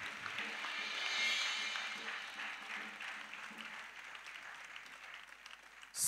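A congregation at a bilingual French-English church service applauds in praise, producing soft, distant clapping that swells briefly and then tapers off, quiet and diffuse throughout.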